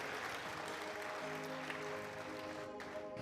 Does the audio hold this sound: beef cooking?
no